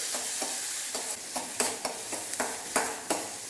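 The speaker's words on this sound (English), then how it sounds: "adding ginger, garlic and half an onion to this. I'll just saute it" Ginger, garlic and half an onion sauté in a pan for a soup, a steady sizzle broken by a regular run of sharp scraping stirs about every half second, close and clear with no voices.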